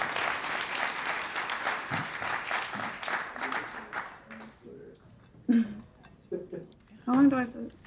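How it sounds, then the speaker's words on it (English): An audience applauds two speakers at a social housing event, steady clapping that fades after about four seconds, followed by a few people talking close by. "let's give them both a round of applause."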